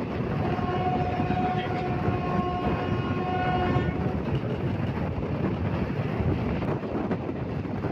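The Silambu Express runs along with a steady, close roar of rolling wheels and wind, while a long train horn sounds through the first half and then drops away, leaving the continuous rumble.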